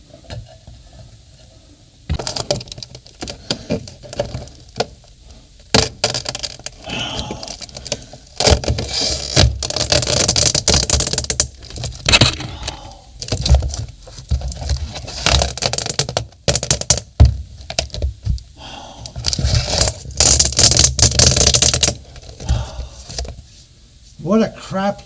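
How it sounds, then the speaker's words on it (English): Sheet metal is torn and crunched out of a Ford Ranchero floor, loud grinding and crumpling bursts that come in repeated stretches over the clip, with brief quieter pauses and a voice now and then. "I'm ripping out sheet metal now"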